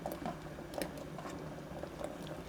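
Red bean porridge boiling in a pot as glutinous rice balls are dropped in, soft irregular bubbling, plopping and squishy splashes, quiet and close throughout.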